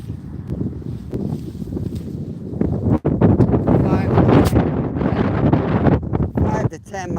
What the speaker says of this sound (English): Freaking wind.